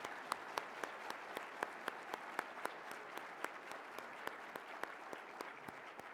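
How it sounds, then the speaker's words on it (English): Conference breakfast audience applauding, a faint, even patter of many hands heard from a distance with sharp individual claps standing out. "Could we have a round of applause for them?"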